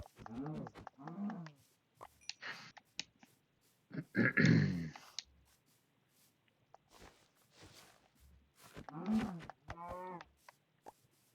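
Cows moo in the Minecraft video game, several short low bovine calls spaced out over quiet stretches, with occasional footstep-like game sounds in between.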